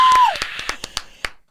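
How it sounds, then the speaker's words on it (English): A studio audience claps for a special guest being introduced at a confidence talk show, a short burst of separate claps loud at first, then thinning out and stopping after about a second and a half. "Let's give a big round of applause to Gabriel Zamora."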